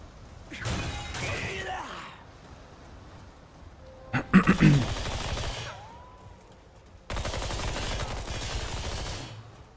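A handgun in the video game Remnant II fires in a few separate bursts spread across the stretch, each a short run of sharp shots, with quieter game noise and a brief voice between them.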